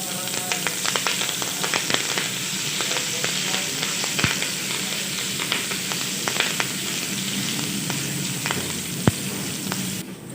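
Two finely chopped green chillies fry in hot oil with cumin seeds, a steady close sizzle broken by sharp pops and crackles throughout.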